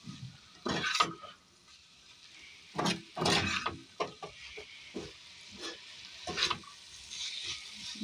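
Fish curry being stirred in a frying pan, with irregular scraping and clattering strokes of a spoon over a faint sizzle, fairly quiet and close.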